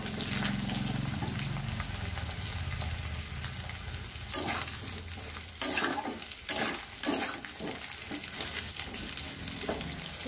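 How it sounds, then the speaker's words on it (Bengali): Taro chunks fry in a pan under a dense, loud sizzle, and later a spatula scrapes and stirs in rapid, uneven strokes over the continuous hiss. "এই কচুগুলোকে খুব ভালো করে একটু লাল লাল করে ভেজে নেব।"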